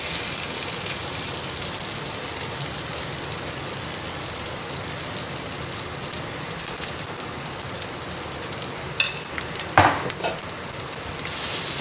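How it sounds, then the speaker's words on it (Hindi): Potatoes fry with garlic and cumin in a pan over a low flame, a steady soft sizzle throughout with a couple of brief clatters near the end. "इसमें मैं आलू ऐड कर दूंगी।"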